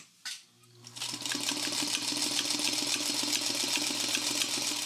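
A home sewing machine runs a fine, very short stitch. After a brief click and pause, a steady fast mechanical whir and rattle continues close by, and no one speaks.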